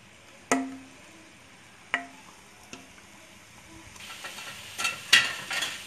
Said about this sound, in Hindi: ये देखिए फटाफट हमारी तल रही है